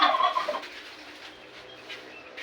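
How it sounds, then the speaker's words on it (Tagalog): A big bird gives a loud turkey-like gobble at the start, followed by fainter gobbling calls trailing off, heard alone outdoors. "Laking ibon."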